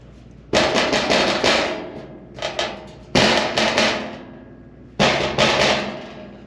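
Loose heat shield rattling and banging under a 2023 Ford E-450 motorhome chassis, three loud clattering hits each ringing and fading over a second or two, with a smaller rattle between.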